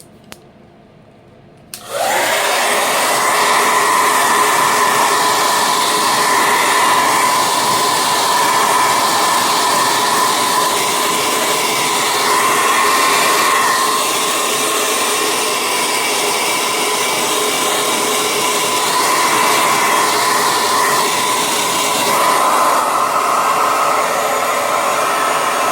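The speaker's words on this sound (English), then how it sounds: "I'm going to get my blow dryer out, and I'm going to blow dry this just a little bit." A blow dryer switches on after a brief quiet moment and then whirs steadily and loudly while drying a painted poinsettia Christmas card, with no talking.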